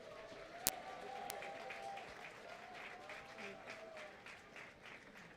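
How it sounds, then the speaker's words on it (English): Audience applause honoring Diamond Jubilarians at a military academy alumni homecoming, steady moderate clapping from a crowd in a large hall with a sharp bang near the start and a faint tonal hum underneath. "a round of applause to our Diamond Jubilarians"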